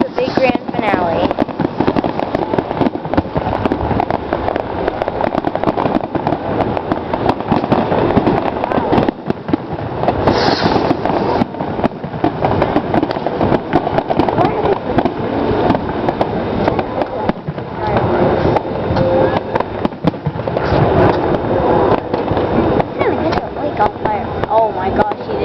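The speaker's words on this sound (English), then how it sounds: "This is a big grand finale." A fireworks grand finale at a lake with a relentless dense barrage of crackling and booming bursts for the whole stretch, and voices talking over the din.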